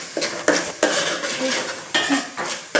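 A spoon scrapes and clanks against a pan in repeated strokes as curry leaves are stirred into a fish curry, close and fairly loud, with a faint sizzle underneath.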